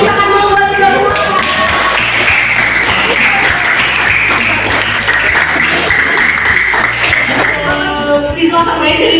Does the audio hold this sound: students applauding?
yes